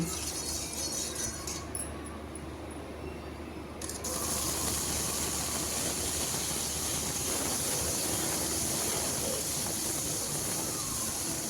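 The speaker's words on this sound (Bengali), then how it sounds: "প্রথমে আমি চাল কুমড়োগুলো ভেজে নেব।" Pieces of ash gourd fry in a little oil in a kadai, giving a loud, steady, dense hiss that swells abruptly after a quieter opening and then holds without a break.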